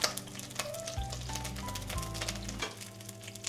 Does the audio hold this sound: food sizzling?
yes